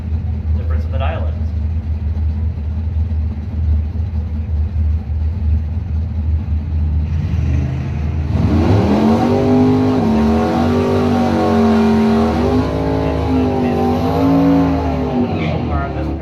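Mopar drag race cars at a street-night drag strip roar down the track, a steady engine drone at first, then loud rising and falling revs with strong harmonics as they accelerate, with announcer talk over the engines.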